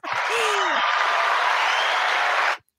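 Podcast hosts clapping together, a dense, loud, steady burst of applause lasting a couple of seconds that cuts off abruptly, with a brief vocal sound at the start.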